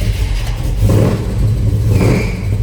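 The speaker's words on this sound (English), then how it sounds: "We're gonna start up our 80 Blazer here at the fuel pump." A 1980 Chevrolet Blazer with a 427 engine, fitted with an electric fuel pump, catches and runs at a fuel pump, giving a loud, steady low engine rumble that swells briefly partway through.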